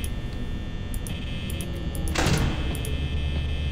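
A security door in the Five Nights at Freddy's horror game slams shut with one loud, sharp mechanical clang over a steady electrical hum, with no talking.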